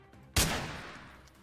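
One sharp gunshot cracks out in Freeman: Guerrilla Warfare and trails into a long fading echo, loud and alone in a quiet moment.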